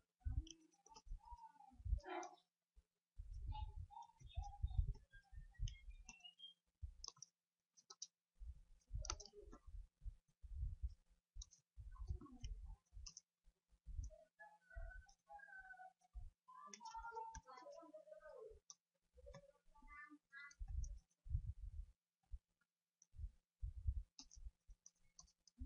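A program is typed on a computer keyboard in long runs of close, rapid key clicks with short pauses, and faint voice-like sounds appear now and then.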